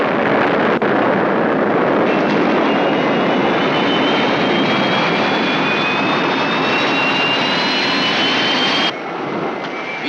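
Spacecraft engines running at full power in a 1975 science-fiction TV series, a loud, steady roaring rush with a faint rising whine that holds for nearly nine seconds before dropping sharply in level.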